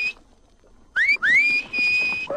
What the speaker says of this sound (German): Bei dem Pfiff geht jedes Pferd hoch.